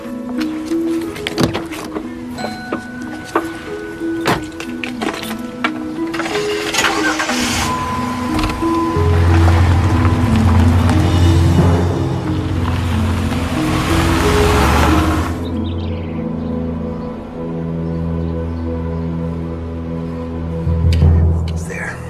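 A car engine starts and then runs steadily through a long stretch, loud and close, with a faint whine like a power window early on and a muffled rumble continuing to the end.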